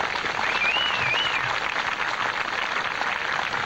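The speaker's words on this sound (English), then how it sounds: "Ladies and gentlemen, please give a round of applause memorial for Dan Raymakers and Katie Smiles." Sustained audience applause fills a memorial tribute at a 1998 alumni show, steady and dense throughout, with a brief whistle rising above the clapping early on.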